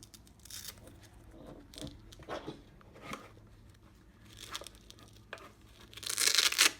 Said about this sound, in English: putting a strip of Velcro